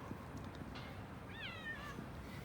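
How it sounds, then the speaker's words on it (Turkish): Outdoor cat gives a single short meow partway through, faint against a quiet background hum. "Burada bakın bir kedi var, sosyalleşiyoruz."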